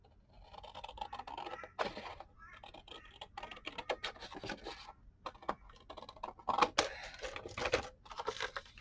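Paper for an envelope being cut to size, a close series of crisp snips, scrapes and crinkles in an irregular rhythm, fairly quiet with no talking.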